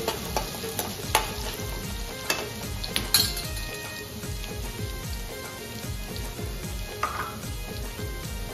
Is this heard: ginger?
yes